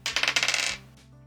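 A quick clatter of dice rolled onto a hard surface, a run of sharp close rattling clicks over about half a second that die away into quiet.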